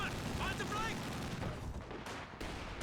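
Half-track vehicle gunfire in a war strategy video game, a steady rattle of shots blended with battle noise and mixed with speech-like sounds.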